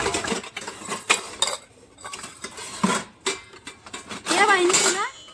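Steel spoons and bowls clink and rattle as they are handled in a village utensil-selling scene, bright metallic chinks scattered between bursts of conversation.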